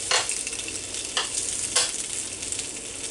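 Turkey hot dogs sizzle on a George Foreman grill indoors, a loud, steady frying hiss with a few sharper crackling bursts and no voices.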